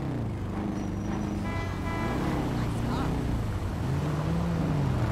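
Modified old motorcycle ridden in GTA V, giving a continuous close engine drone whose pitch rises and dips as the bike speeds up and slows, with faint traffic-like noise around it.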